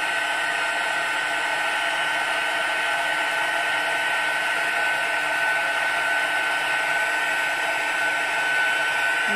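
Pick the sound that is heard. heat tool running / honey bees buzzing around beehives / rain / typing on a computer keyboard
heat tool running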